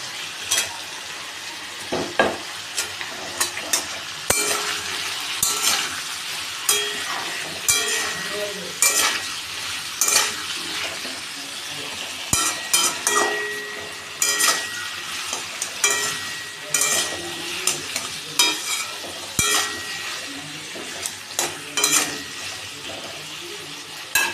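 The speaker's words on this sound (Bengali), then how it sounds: "আমি এবারে টমেটো কুচিগুলো দিয়ে দিলাম।" Chopped tomatoes hiss and sizzle in a pan of turmeric-spiced oil, with repeated spatula stirs and metal clinks scraping across it in uneven bursts, close and steady, no talking.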